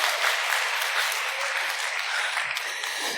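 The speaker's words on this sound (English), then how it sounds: "And yeah, you can applaud for that," An audience at a large hacker camp event gives a sustained round of applause for the Bar Team, a dense, even wash of many hands clapping at steady loudness throughout.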